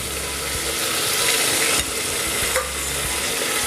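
Chopped onion and spring onion stirred into hot oil with cumin seeds for jeera rice, giving a steady close sizzle with scraping and clattering from the stirring spoon.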